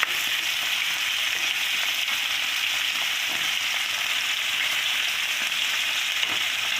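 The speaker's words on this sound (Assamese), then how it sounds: "মই আজি ইয়াতে এই কোমৰা এইখিনি ভাজি লোৱাৰ পিছত এই কাটি লোৱা বগা কোমোৰাখিনি" Cut white gourd frying in a pan makes a loud, continuous sizzling hiss that stays even throughout, close and with no talk.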